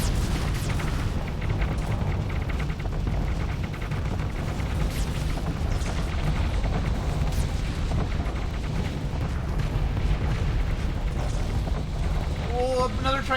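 Ship weapons firing and explosions in a Starsector space battle, with a fleet firing on a station: a dense, continuous roar of booms and gunfire throughout, loud and sustained, with a commentator's voice talking over it.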